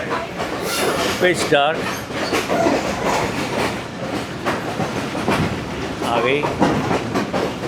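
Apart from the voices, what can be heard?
Pakistan Railway express train running, crossing bridge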